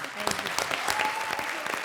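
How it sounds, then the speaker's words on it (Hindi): Studio audience applause on an Indian television comedy show, steady dense clapping throughout, loud and close, with a voice over it. "जोरदार तालियां भारती, किकू और सिद्धार्थ के लिए"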